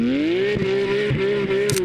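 A Porsche GT4 RS engine holds a steady, sustained tone, heard up close and loud, with a few brief mechanical knocks and a short hiss toward the end.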